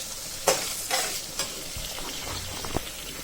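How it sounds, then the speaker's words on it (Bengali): Onion, garlic and green chilies sizzle in hot oil in a pot while a spoon scrapes through them in a few quick, sharp strokes, heard close with no talking. "আমার পেঁয়াজ, রসুন, কাঁচামরিচ ভাজা শেষ।"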